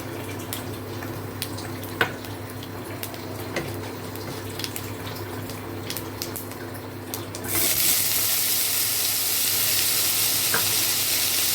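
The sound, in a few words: stir-frying potatoes with panch phoron in pan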